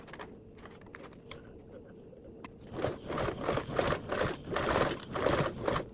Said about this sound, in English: Now we can go around and baste with a 1/8 seam